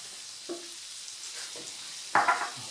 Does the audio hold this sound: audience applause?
no